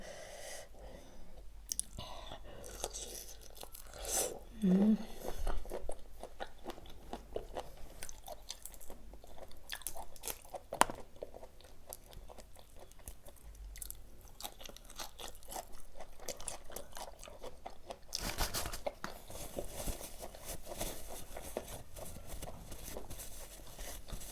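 Someone chews a spicy pounded salad of raw jumbo shrimp with chili, giving soft, irregular crunching and mouth noises up close, with breaths and a sigh between bites and no talk.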